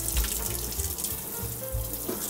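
Water runs from a tap to soak a frozen silicone ice mold for diamond and heart-shaped whisky ice, with a steady close splashing rush and low gurgling throughout.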